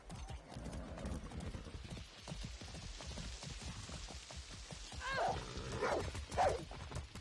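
Horse hooves in Far Cry 6, a rapid continuous clip-clop of galloping hooves throughout, with a couple of whinny-like calls near the end.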